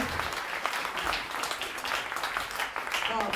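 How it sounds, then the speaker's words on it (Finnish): Audience applause after a snowboard startup's pitch at a contest, a sustained crowd clapping heard from a distance, fairly soft and even, with voices faintly underneath. "annetaan isot aplodit vielä kerran"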